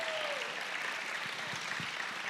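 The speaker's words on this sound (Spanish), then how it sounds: "les quiero pedir un fuerte aplauso a José Urdaneta, que quedó ayer campeón" Applause from an audience honoring a table tennis world champion, a steady wash of clapping heard from some distance, fairly quiet and continuous for the whole moment, with no speech.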